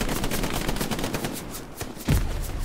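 Machine gun fire in the Hell Let Loose video game, a rapid, continuous rattle of shots with one heavier thump near the end, loud and up close.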